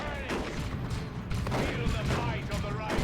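Dense gunfire in a 3v3 Warhammer 40,000 Dawn of War 2 battle, a continuous rattle of rapid shots and muffled impacts with no gaps across the few seconds.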